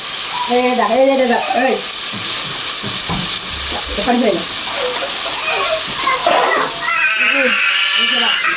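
Vegetables fry in a pan for a quick noodle dish, a steady sizzle running beneath a woman's speech throughout.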